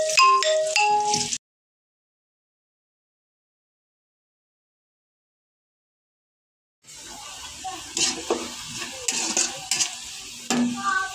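Bottle gourd greens stir-fried with fish in a pan make a sizzle with scraping stirs and utensil clinks. It is heard briefly at the start, then stops, and returns after several seconds of silence.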